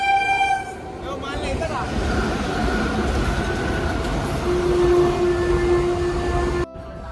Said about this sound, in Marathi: ही कुठली तरी आहे मालगाडी